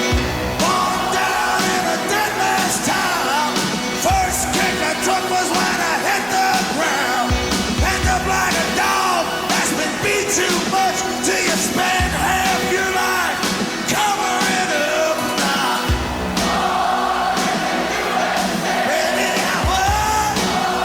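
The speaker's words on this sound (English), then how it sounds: "everybody's shouting it" Stadium concert crowd shouting along to a song, a loud, dense roar of massed voices over the band's pounding drums and synth, sustained at full volume through the whole stretch.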